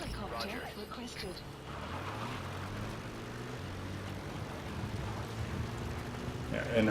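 A support helicopter arrives in the video game Metal Gear Solid 5: The Phantom Pain, its steady low rotor rumble sitting under a game voice and talk.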